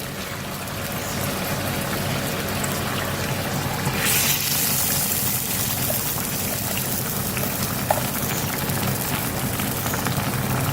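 Thick ground paste of tomato, onion and coriander poured into a pot for chicken curry, a steady wet sloshing pour that runs the whole time with a brief louder splash partway through, close and fairly loud.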